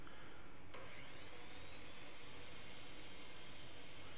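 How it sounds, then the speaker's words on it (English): A miter saw cuts through a walnut board with a steady, loud, broadband whine that runs the whole time, with a brief sharp knock near the start and no voices. "Here I am cutting that first piece."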